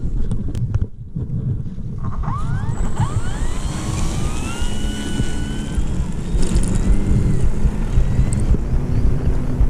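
A 1400mm RC T-28 Trojan model plane at full throttle, climbing out: a steady buzzing motor drone with pitch sweeps as it passes, heavy wind rumble on the mic throughout, no voices.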